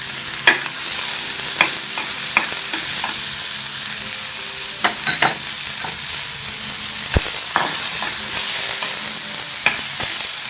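Curry leaves frying in hot oil for spicy millet paniyaram, a steady close sizzle broken by repeated sharp scraping stirs and pops, with no talking.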